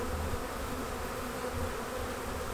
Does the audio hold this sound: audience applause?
no